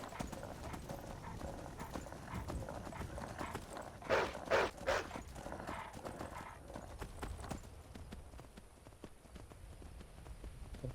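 A horse gallops in Skyrim with rapid clip-clop hoofbeats and a sharp neigh near the middle, close and loud over outdoor game ambience, while a wolf attacks nearby.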